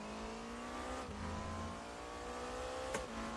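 A car engine heard from inside the cockpit in the RaceRoom racing game, a steady droning hum with a small pitch shift and a brief click near the end, alone without speech.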